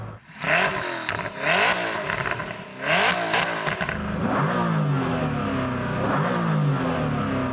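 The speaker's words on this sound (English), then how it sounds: "So I'm going to start off by revving up this Koenigsegg." A Koenigsegg supercar engine revs hard several times in sharp, rising bursts, then settles into a rough, pulsing idle close by.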